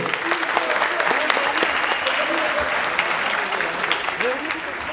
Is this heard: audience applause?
yes